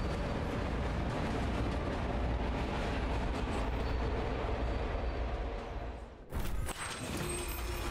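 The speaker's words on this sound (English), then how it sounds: "The Witchstone-powered train races across the desert, far faster than any conveyance or beasts of Orwinder" A Witchstone-powered train racing across the desert in the video game Unforetold Witchstone: a continuous loud rushing rumble with rhythmic rail clatter, dipping briefly near the end before a sharp burst and the run resuming.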